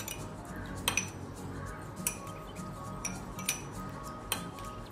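A spoon stirs a vinegar and water mixture in a small vessel while milk heats for homemade rasmalai, giving a few sharp metallic clinks against a steady low background hum.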